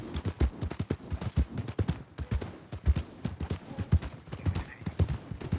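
Horse hooves clip-clop in a steady, fast rhythm, close and clear, with no voices, in the video game Red Dead Redemption 2.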